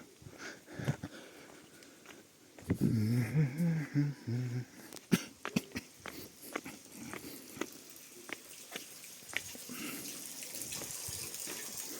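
Naftusya mineral water runs and splashes steadily from a borehole spout at a public spring in Skhidnytsia, with people talking over it and a few sniffs and brief handling noises nearby.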